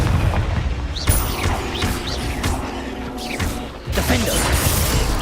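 Fire-blasting Confringo spell explosions in the Hogwarts Legacy video game, several booming blasts and crashing impacts in a dense, loud battle mix with a short dip near the end.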